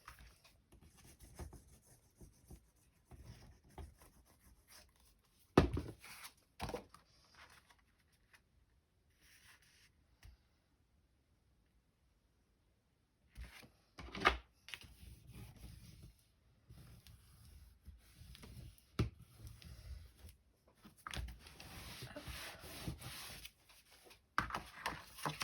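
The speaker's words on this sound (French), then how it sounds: "On marque les plis, côté montagne, toujours." Paper is creased into mountain folds for a page structure, giving soft rubbing and pressing sounds in short, uneven bursts with quiet gaps between them, close and faint.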